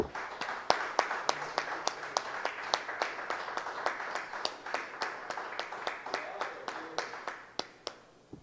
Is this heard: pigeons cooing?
no